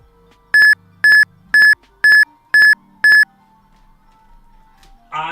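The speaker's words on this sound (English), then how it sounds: "I heard some beeps." Six sharp, loud electronic beeps repeat evenly about every half second from a Pokemon game during shiny Unown hunting, over a faint low game hum, followed by quiet background tones.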